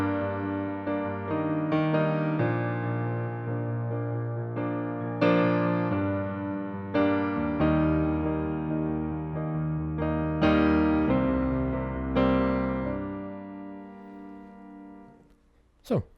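Piano playing the second verse of a song in an acoustic arrangement, a steady sequence of sustained chords and melody notes ringing alone, moderately loud, fading at the end.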